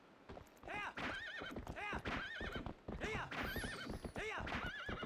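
A horse in the video game Zelda Twilight Princess gallops with quick hoof beats and neighs loudly several times, the whinnies standing out clearly over the hooves.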